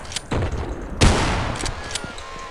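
Shotgun blasts in the horror game Afraid of Monsters, a couple of loud close booms with a sharp onset near the middle and lighter shots and clicks around them, no talking.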